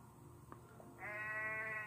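A goat in the Goat Simulator video game lets out one long, sustained bleat that starts midway and carries to the end, after a few faint bumps.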